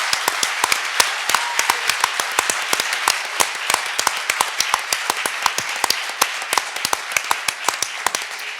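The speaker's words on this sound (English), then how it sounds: "And one more round of applause, please, for this great partnership." An audience at a sports-facility press conference gives a dense round of applause, with many hands clapping in quick, sharp, overlapping claps that carry on steadily for several seconds.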